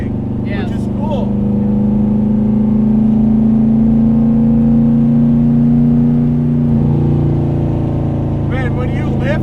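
A 600 hp 1972 Corvette autocrosser built by Detroit Speed drives with a loud, steady engine drone that eases off near the end. A passenger talks briefly at the start and finish.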